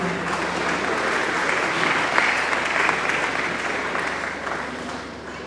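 An audience at a gospel gathering claps in sustained, dense applause, loud and even throughout, swelling slightly in the middle before easing off toward the end.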